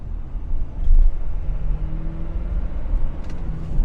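A 2023 Ford Super Duty high output truck accelerates, its engine a steady low rumble with a faint rising tone heard from inside the cab, no talking.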